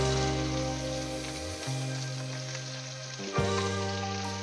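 Chopped ginger, green chili and garlic sizzling in hot oil in a pan, a close, even frying hiss with a soft stirring clatter near the end, no talking.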